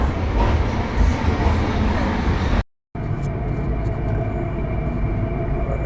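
A passenger train in central Queensland rumbles along the rails with a steady low roar, briefly cut to silence midway before the continuous rolling noise resumes.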